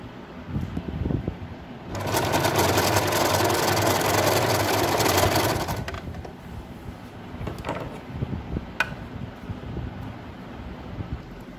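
A sewing machine runs in one steady, loud burst of a few seconds while stitching the edges of a bedspread being made into a fitted cover, then stops, leaving quieter handling noises.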